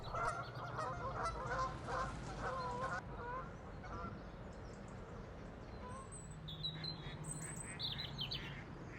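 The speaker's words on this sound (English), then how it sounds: "now that the geese are going" Geese honking as they leave the water, a flurry of calls that fades away, followed by a few scattered, higher bird calls over low background rumble.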